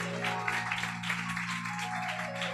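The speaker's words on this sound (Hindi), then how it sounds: "जोर से एक बार ताली बजाओ।" A church congregation clapping together in a sustained, dense wash of applause that stays steady throughout, over a low constant hum.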